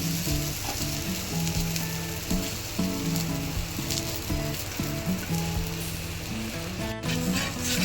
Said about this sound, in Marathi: तेल टाकून वरतून खालून त्याला मस्तपैकी फ्राय करून घ्यायचे